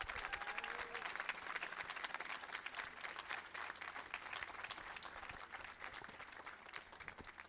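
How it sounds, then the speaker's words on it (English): An audience at a high school band concert applauds with steady, dense clapping that holds at an even level throughout, heard from within the hall. "So can we please give a round of applause to Miss Olivia Looning?"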